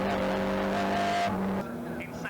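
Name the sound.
70s roadsports race cars at Mallory Park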